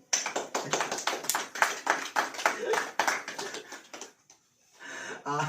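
Rhythmic audience clapping at a Hindi church sermon, loud and close with sharp repeated claps and voices mixed in, stopping briefly before a short burst of sound near the end.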